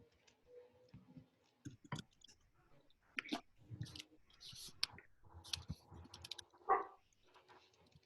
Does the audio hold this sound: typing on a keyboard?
yes